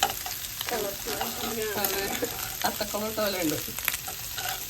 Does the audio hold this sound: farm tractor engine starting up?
no